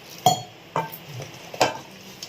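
A spoon works through thick chilli bajji batter in a bowl, leaving a few separate soft knocks and scrapes spaced about a second apart over quiet room tone.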